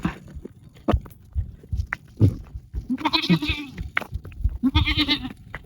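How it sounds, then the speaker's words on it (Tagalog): A goat bleats twice in quick succession, close and fairly loud, with its wavering cries standing out over soft background rustling and faint voices. "Wayway ng kambing. Ang kambing ko."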